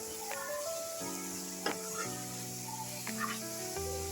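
Masala for a South Indian black-eyed pea curry fries in a pan, a soft, steady sizzle heard faintly beneath sustained background music tones.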